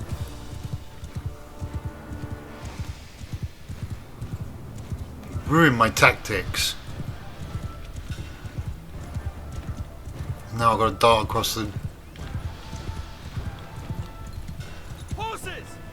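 Horses gallop with rapid clip-clop hoofbeats in the Mount & Blade II Bannerlord battle game, steady throughout under shouted commands and talk, with louder bursts of hooves and whinnies around the middle and end.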